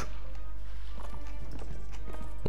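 Galloping horse hooves in the Mount and Blade Warband video game, a fast, steady clip-clop of hoofbeats over a loud constant low rumble of game sound.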